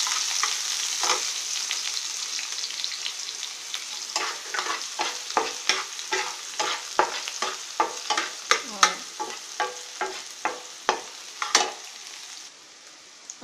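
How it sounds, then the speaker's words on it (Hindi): Onion fries in a pan with garlic in refined oil while being stirred, a steady close sizzle broken by rhythmic scraping and clicking strokes of a spoon that grow more distinct toward the end. "प्याज को हमें बहुत ज़्यादा नहीं पकाना है, सिर्फ 1 मिनट तक चलाया है।"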